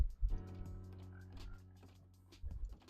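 Frogs croak faintly in a Minecraft world, a low buzzing, harmonic croak drawn out across the moment under quiet game ambience, with no voices.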